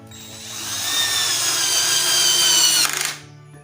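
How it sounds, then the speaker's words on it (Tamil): A GAOCHENG GC-CL12V 12-volt cordless drill drives a screw at speed setting 1, a steady whining motor rising slightly in pitch for about three seconds, then a brief ratcheting stutter as the screw seats and it stops. "இதே ஸ்க்ரூஸை 1ல் வச்சு ஏற்றி காட்டுறேன்"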